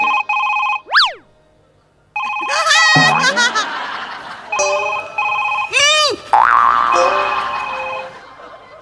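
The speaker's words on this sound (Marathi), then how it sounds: "पुतल्याचा फोन वाजतोय." A mobile phone rings loudly on a Marathi comedy stage, bright repeating electronic tones mixed with comic boing effects, quick sweeps and bursts of audience laughter.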